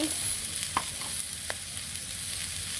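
Spices with green chilli, dried chilli, turmeric and salt sizzle steadily in a pan over a clay stove, with a couple of sharp stirring scrapes and no voices.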